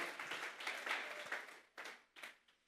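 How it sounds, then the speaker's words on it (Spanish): A church congregation claps in praise to God during a Spanish-language sermon. The applause is faint and distant, swelling in uneven waves and then breaking into a few shorter bursts. "Vamos a darles ofrenda de palmas a Dios en esta hora."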